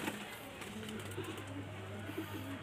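Pigeons coo in a low, soft, repeated warble, several gentle rounded calls in close succession, fairly near but quiet, with no talking.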